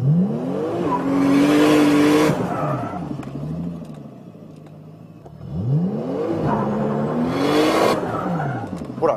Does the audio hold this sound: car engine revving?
yes